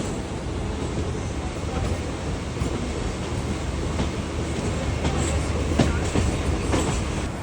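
A train crosses a railway flyover in Mumbai, a loud, continuous close rumble with steady clickety-clack of wheels over rail joints and occasional metallic ticks.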